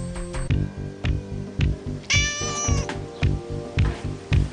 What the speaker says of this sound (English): The one-bedroom apartment has cats everywhere.